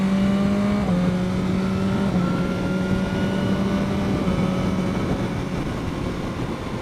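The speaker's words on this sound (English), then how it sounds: "You hear that engine?" A 2015 BMW S1000R motorcycle engine hums steadily and loud while riding, its tone dropping slightly near the start and then holding an even, smooth drone throughout.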